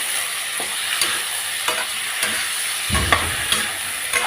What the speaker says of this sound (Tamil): இதையும் நல்லா வதக்கிடுவோம்.